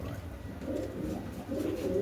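Toy bit pigeons, kept as a pair, coo in soft, low, rolling bursts close by, with a faint steady background hum and no talk.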